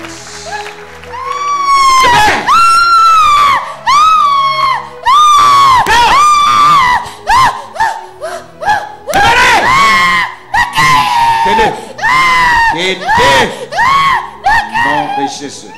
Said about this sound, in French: Betina Yesu maboko Acclame makasi